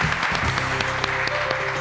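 A studio audience at a quiz show applauds, a short burst of dense clapping that is close and fairly loud, with sharp individual claps standing out.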